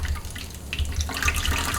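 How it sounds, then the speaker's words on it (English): Thin almond milk dripping and trickling through a very fine mesh bag as it is hand-squeezed, a close, steady patter of small drops and running liquid lasting a couple of seconds. "the milk is already dripping out. And then you can squeeze it with your hand"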